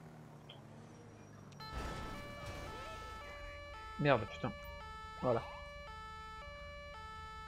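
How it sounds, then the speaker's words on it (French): Police siren in GTA V wails in short rising sweeps with stepped electronic tones, mid-distance, while a man mutters a few words over it. "On va couper la sirène."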